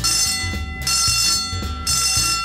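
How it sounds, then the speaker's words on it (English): A fire alarm set off by fog inside a church rings loud and continuous, a harsh bell-like tone pulsing in a steady repeating pattern with no voices over it. "I tried to put some fog into the church, if you can see that here, and the fire alarm went off"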